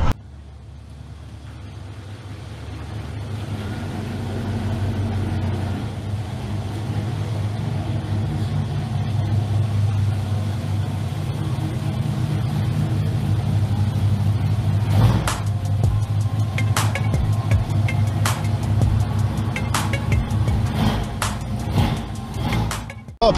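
A car drives along the road toward a scrapyard with a continuous low engine and road drone, joined in the second half by a series of sharp intermittent clicks.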